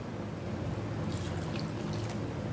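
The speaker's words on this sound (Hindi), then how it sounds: "हम इसमें डालेंगे 1 गिलास पानी" A glass of water poured into a Malvani-style crab masala curry with coconut paste, a steady liquid trickle and splash close by, heard alone.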